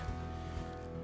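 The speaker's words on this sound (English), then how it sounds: "you can probably hear these boats idling in the background" Boat motors idle on Fayette County Lake, Texas, with a low, steady rumble and hum, continuous and fairly close, without talk.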